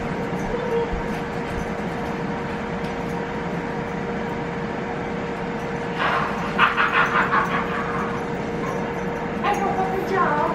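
Puppies let out a burst of short yips and whimpers partway through, high and close, over a steady indoor hum and a person talking in the background.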